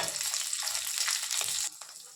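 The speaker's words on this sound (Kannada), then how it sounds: "ಹಾಗೆ ಬೆಳ್ಳುಳ್ಳಿ ಇದನ್ನು ಸೇರಿಸ್ಕೊಂಡು ಎಣ್ಣೆ ಸ್ವಲ್ಪ ಹಾಕ್ಕೊಂಡು ನಾನು ಎಲ್ಲದನ್ನು ಒಂದೊಂದಿನ ಫ್ರೈ ಮಾಡ್ಕೊಳ್ತಿದ್ದೀನಿ." Green chillies and garlic frying in a little oil for a mint chutney sizzle loudly and closely with a bright, crackling hiss, then abruptly drop to a quieter simmer near the end.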